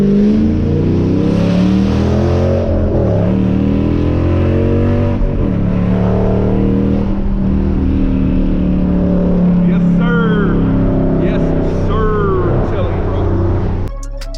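A catless Dodge Challenger accelerating onto a freeway, its loud exhaust droning and rising steadily from inside the car, with someone talking over it throughout.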